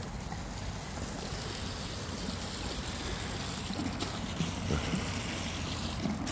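Natural mineral water spring flowing up in the centre of Kiseljak, a steady continuous rush and trickle of water, fairly close and unbroken, with faint background noise.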